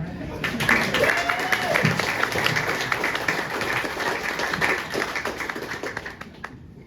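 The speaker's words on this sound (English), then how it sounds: "Let's give him a hand." Comedy club audience at a stand-up show clapping and applauding, a dense burst of hand claps that builds quickly, holds steady for several seconds, then thins out and fades, with faint voices mixed underneath.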